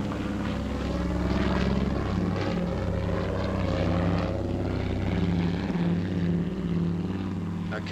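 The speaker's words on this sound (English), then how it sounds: "A Catalina coming home from the day's first patrol." Droning engines of a Catalina flying boat returning from patrol over a Southeast Asian harbour base in 1945, a steady rumbling propeller hum that swells slightly and holds throughout.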